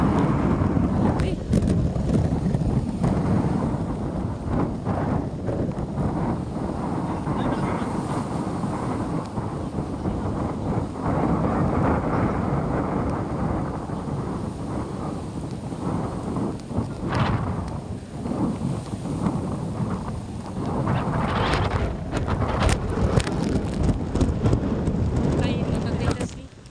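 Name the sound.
strong wind of Super Typhoon Uwan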